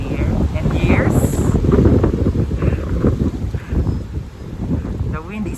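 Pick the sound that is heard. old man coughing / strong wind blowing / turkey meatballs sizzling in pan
strong wind blowing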